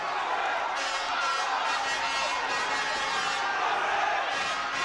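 A large boxing-arena crowd roars and cheers for Ampofo in a continuous, dense wall of voices. The cheering is loud and sustained throughout, with swells in excitement and no single voice standing out.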